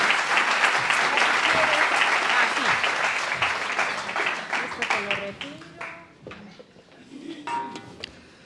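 An audience at a conference applauds in a dense, steady clatter that gradually thins into scattered claps, followed by a few faint voices.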